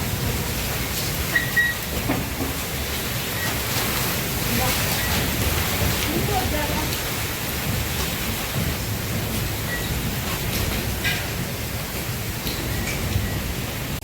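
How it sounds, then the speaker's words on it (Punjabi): Heavy evening rain with a windstorm, a dense, steady roar of downpour and gusting wind that stays loud and unbroken throughout, with occasional brighter spatters on top. "ਸ਼ਾਮ ਹੋ ਗਈ ਮੀਂਹ ਉਤਰਿਆ ਬਹੁਤ ਜ਼ਿਆਦਾ ਤੇ ਹਨੇਰੀ ਹੈ ਨਾਲ"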